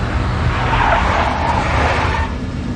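A big black Mercedes skids in the Max Payne Mobile video game. The tires screech in one continuous, loud squeal of about three seconds, over a steady engine rumble, with no one talking.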